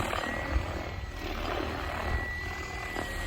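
RC helicopters such as a Protos 380 or Specter 700 hovering at a low 1300 RPM head speed outdoors at a flying field, giving a steady droning whir of rotor and motor, moderately loud and unbroken.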